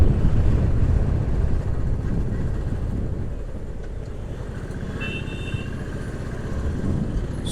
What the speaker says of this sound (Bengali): রেলগেট খুলে গেছে কিন্তু জ্যামটা রয়েছে এখানে।